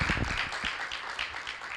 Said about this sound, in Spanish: les pido un tremendo aplauso a los tres panelistas de hoy